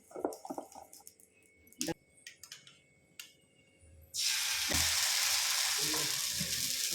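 Onion uttapam batter goes onto an oiled pan. Scattered clatter and handling noises lead into a sudden loud, steady sizzle that fills the rest of the clip.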